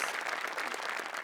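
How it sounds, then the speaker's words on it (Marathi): Studio audience applauding on a Marathi comedy show, a dense, steady burst of clapping that fills the short clip without any voices over it. "हरीश कसपटेंसाठी पण एकदा टाळ्या"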